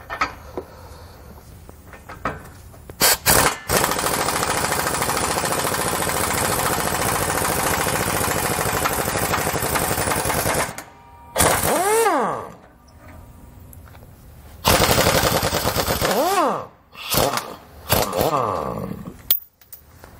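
An impact power tool fitted with a 15/16 inch socket zips off U-bolt nuts on a 2009 Workhorse W-Series chassis, loud close bursts of whirring and rattling hammering with short pauses between, pitch sweeping as each burst winds down.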